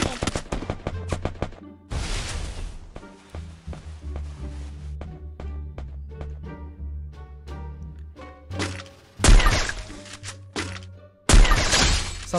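Gunfire from two squads fighting in a video game: repeated sharp shots crack out in bursts, some dense volleys and a few louder blasts near the end, with no talking.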